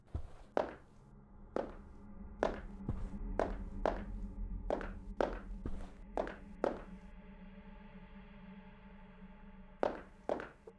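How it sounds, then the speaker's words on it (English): Video game footsteps on carpet, a dozen or so soft thudding steps in an uneven walking rhythm with a brief pause near the end, close and fairly quiet. "the carpet walk sound is at the same power as every other footstep"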